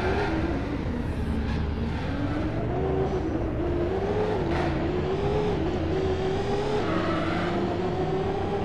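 A small car in the Star Citizen video game drives steadily, its engine holding a continuous, loud hum with slight pitch wavering throughout and no speech over it.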